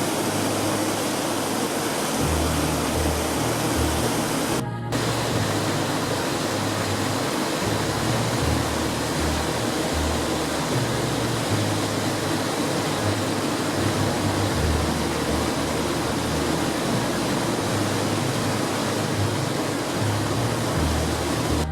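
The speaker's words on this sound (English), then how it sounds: "You can climb all the way to the top of the waterfall" Tangle Falls in Canada pours in a steady, dense roar of rushing water, a loud, unbroken wash of noise that continues unchanged, with no voices.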